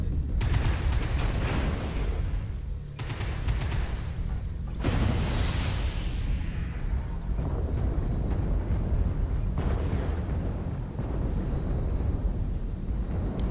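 Repeated heavy explosions from video game airstrikes boom and rumble close and loud, with bursts of blast noise over a constant dense battle din.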